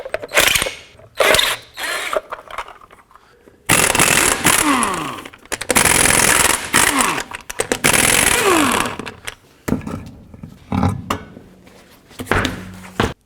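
Lug nuts come off the front wheel of a 2007-14 Chevy Silverado with a ratchet or impact tool: repeated mechanical clattering and ratcheting bursts, some long and dense, others short, with brief pauses between them and no talking.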